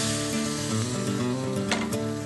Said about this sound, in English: And now with a ladle, I'm going to start to slowly add the warm stock.